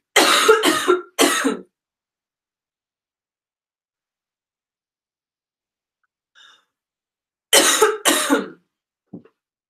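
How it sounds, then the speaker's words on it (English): An adult coughing fit comes in two bursts of three harsh, close coughs each, separated by several seconds of silence, with a faint throat sound near the end. "Okay, cough attack. Hold on just a minute."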